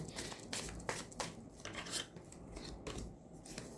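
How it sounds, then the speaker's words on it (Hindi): Tarot cards drawn from a deck make soft, close, papery slides and flicks in short bursts over a faint background, with no talking. "मैं कार्ड्स निकाल रही हूँ, देखती हूँ क्या कार्ड्स आ रहा है"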